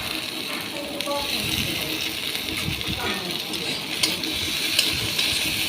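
Snails and potatoes frying together in a pan, with a steady close sizzle and occasional stirring scrapes running throughout at an even, moderate loudness.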